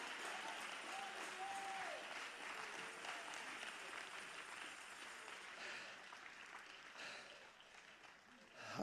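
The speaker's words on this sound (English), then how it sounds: "get on your feet and clap your hands" A church congregation applauds, sustained clapping from many hands at moderate distance that tapers slightly near the end.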